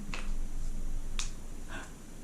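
Finger snaps imitating cracking bones: three sharp, separate snaps spaced about half a second apart over a low background hum, with no talking.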